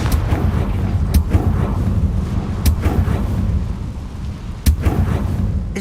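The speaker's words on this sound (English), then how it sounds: "Confringo!" Confringo blasting spell cast in Hogwarts Legacy, sharp loud cracks landing over a dense rumbling low roar, several blasts spaced a second or more apart.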